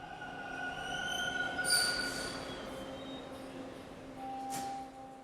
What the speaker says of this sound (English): He headed to the subway and boarded a train